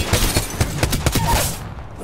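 Rapid gunfire in the Apex Legends game mode Armed and Dangerous: a quick run of sharp, punchy shots in an irregular burst, loud and close, then fading out.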